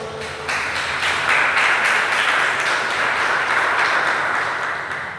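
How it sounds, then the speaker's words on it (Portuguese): Church congregation breaking into loud, sustained applause that swells quickly and holds as a dense roar of many hands, easing off slightly toward the end. "Veja a palavra de Deus e aplauda com toda a força."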